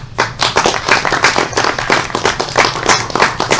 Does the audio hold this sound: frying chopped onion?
no